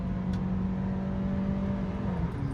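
A Mazda car cruising on a freeway in third gear after a downshift, its engine giving a steady, loud drone with road hum heard from inside the cabin.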